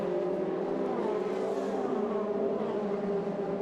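Formula Renault Eurocup race cars lapping the Pau street circuit, a steady high engine whine that swells and fades as the cars pass at a distance. It holds continuously with no voices.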